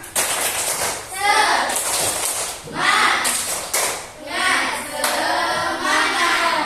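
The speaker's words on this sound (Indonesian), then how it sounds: "Tepuk semangat." Pupils in a classroom perform a rhythmic clapping routine, several bursts of hand claps in time, mixed with children's voices chanting along.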